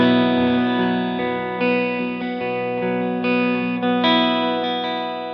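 Electric guitar through a chain of effects pedals plays a sustained, distorted and chorused verse part, chords ringing and changing every second or so with lush reverb, alone and upfront.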